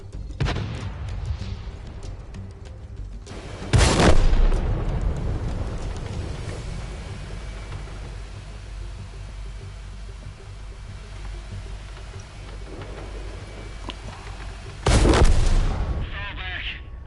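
Tank cannon shots in World of Tanks: two heavy, booming blasts about eleven seconds apart, each with a rumbling tail, plus a softer thump early on, all over a steady engine drone with no clear speech.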